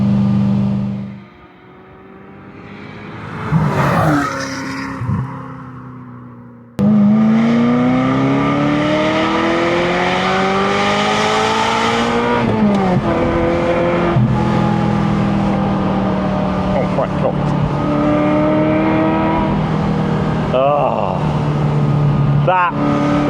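The V8 engine of a Ferrari 348 Spider roars at full throttle, rising in pitch through several gears with quick dips at each upshift, loud and close throughout after a quieter opening.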